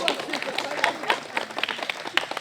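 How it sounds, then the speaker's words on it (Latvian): Applause from a crowd gathered at the gate-opening ceremony of a newly built town square in Rūjiena, a dense patter of clapping that goes on throughout at moderate loudness. "Aplausi!"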